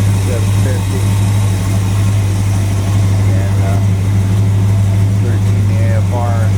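Carbureted engine with an Edelbrock AFB carburetor idling slightly rich while warming up, a steady low rumble running close and loud throughout, with faint background sounds over it.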